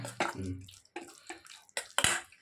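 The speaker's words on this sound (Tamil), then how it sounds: "கொஞ்சம் தண்ணி ஊற்றிக்கிடுங்க." Water poured into a pot of rasam with brinjal thokku on the stove, several short splashing gushes in quick bursts, close and fairly quiet, with no talk over them.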